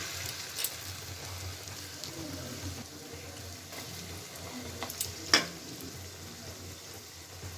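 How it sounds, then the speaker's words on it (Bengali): Bathua saag pakoras, thin fritters of chenopodium greens, frying in hot oil in a pan, giving a steady soft sizzle and bubbling throughout, with a brief louder crackle near the end and no one talking. "দ্বিতীয় ব্যাচে আমি ছেড়ে দিচ্ছি বড়াগুলো ওই একইভাবে পাতলা করে ছেড়ে দিচ্ছি"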